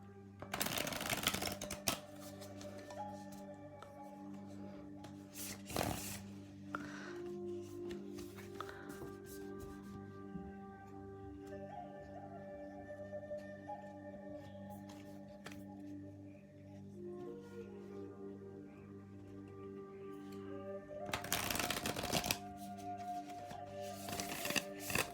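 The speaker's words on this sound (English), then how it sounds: "the more you shuffle them, the better they get to be shuffled" A deck of Whisper Tree Oracle cards shuffled by hand in repeated riffling bursts, close and soft, with louder flurries at the start and near the end over a sustained musical drone.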